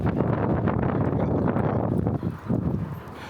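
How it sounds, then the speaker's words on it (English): Steady low rumbling wind buffeting the microphone, loud and continuous throughout with slight dips near the end. "It's a little windy out."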